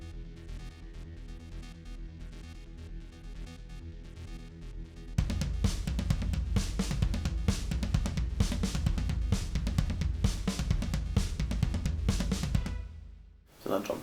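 A programmed drum pattern kicks in after a sparser, sampled-sounding intro, with steady punchy hits continuing before cutting off near the end.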